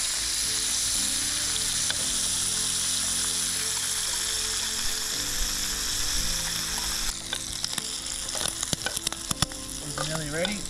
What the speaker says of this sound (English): We're just going to cook it in some onion chilli and garlic marinade